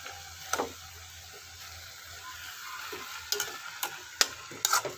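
Apple and sugar cook in a saucepan with a soft, low sizzle while a utensil stirs and scrapes against the pan in scattered bursts, close and fairly quiet.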